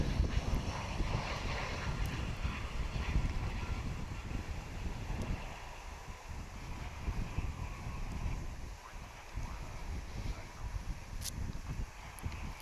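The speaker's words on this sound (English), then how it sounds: "I don't know if you can hear it in the background, but it's really windy today" Strong wind buffeting the open air at Dallas/Fort Worth Airport, a continuous rough rushing roar with gusts that swell and ease, faint overall, and no speech.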